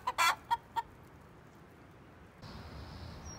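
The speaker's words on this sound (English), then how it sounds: "that is her clucking to let me know she's laid an egg" A hen clucking loudly after laying an egg, a short burst of three or four sharp calls close by, then quiet outdoor background.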